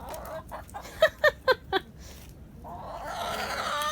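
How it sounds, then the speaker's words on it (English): Backyard chickens cluck four times in quick, sharp bursts close by, after some softer scattered clucks, followed by a rising rustle of movement. "Brave chickens."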